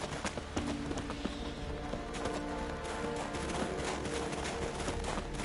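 Rapid clip-clop of a galloping horse's hooves in The Witcher 3, steady and close, layered over a busy ambient background throughout.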